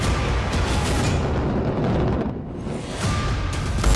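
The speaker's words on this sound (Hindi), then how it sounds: "एक जबरदस्त धमाका और जमींदोज हो गया ट्विन टावर।" The Noida twin towers, 103 and 94 metres tall, come down in a demolition blast: a broad, sustained roaring rumble with heavy wind buffeting on the microphone, dipping briefly before surging again.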